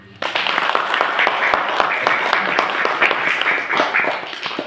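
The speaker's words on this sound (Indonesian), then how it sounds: "Tepuk tangan dulu" Audience applause at a religious sermon and work-meeting gathering, a dense steady patter of many hands clapping at close range that starts abruptly and carries on, with voices mixed in underneath.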